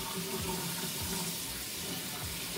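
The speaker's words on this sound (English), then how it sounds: "So when we get the water running nice and hot" Hot water runs from a tap in a steady, continuous rushing splash, close and even throughout, while a golf grip is being cleaned.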